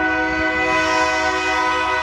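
A train horn sounds as a train goes by in Hawaii, holding a loud, steady, multi-tone chord nearby for the whole stretch, with a low rumble beneath and no talking.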